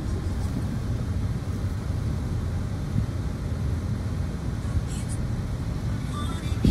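Road traffic near Divisoria on Soler Street in Manila: a constant broadband rumble of cars and engines close by, steady for several seconds, with a few faint higher noises late on and no clear speech.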